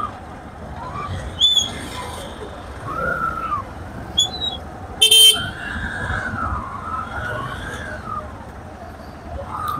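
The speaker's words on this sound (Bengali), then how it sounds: "তারপরে হর্ন দেওয়া লাগতেছে।" Car horns blare in a Dhaka traffic jam, several sharp honks scattered among the rumble of idling vehicles and surrounding street babble, one burst loud and close.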